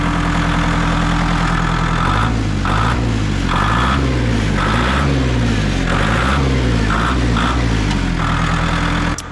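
An old Ford tractor, back at work after sitting 15 years, chugs loudly while being driven, its engine throbbing in a steady, uneven rhythm with repeated surges, close and continuous.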